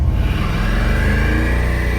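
Cammed squarebody truck doing a burnout held by a line lock on the front brakes, a loud, steady, continuous engine roar with heavy low rumble and tire noise filling the whole stretch, no talk.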